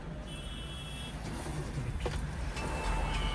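A car engine runs steadily during a hill-start driving lesson, a continuous close rumble with a slight rise in level toward the end, plus a few faint clicks and squeaks and no talk.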